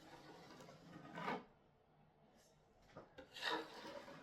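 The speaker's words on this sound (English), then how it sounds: "what I'll do next is I'll sand over the top of this" Sandpaper rubs over a wooden art surface in quiet, scratchy strokes, with two brief bursts of abrasion separated by a near-silent pause. It is close and faint, with no talking.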